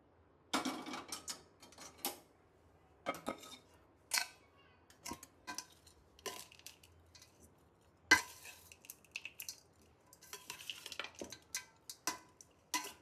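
Lemon rice being stirred together with its spice paste in a pot, giving scattered scraping and clinking bursts of spoon against metal, close and irregular, with no talking.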